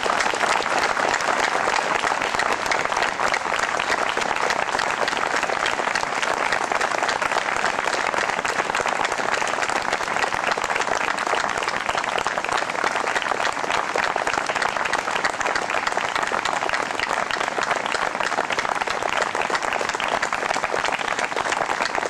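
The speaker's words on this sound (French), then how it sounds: "je vous propose ce matin que nous applaudissions maintenant Monique" An audience at an outdoor pardon ceremony applauds, a dense, even wall of clapping held at full strength for over twenty seconds without letting up.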